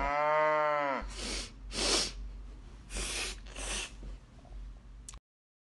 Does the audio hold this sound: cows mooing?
yes